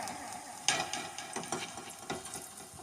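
Food fries quietly in oil in a pan, a soft sizzle broken by several sharp scraping and stirring knocks of a utensil, with no voices.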